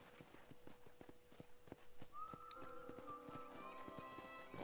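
Horse hooves clip-clop at a riding pace in Red Dead Redemption, a steady rhythm of hoofbeats running throughout at moderate loudness, with game music and ambience rising underneath partway through.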